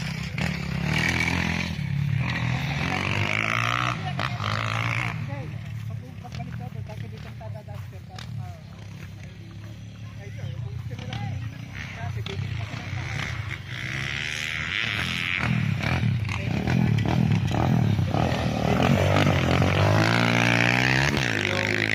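A motorcycle engine running on a road beside a farm lot in Nagcarlan, Laguna, with a steady, buzzing drone that swells and fades as it moves. Voices talk over it throughout.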